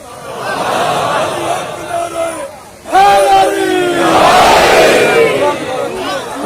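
A large crowd at a Muharram religious gathering in Faisalabad bursts into a loud, sustained collective shout of a religious slogan in response to a speaker. A quieter stretch of voices comes first.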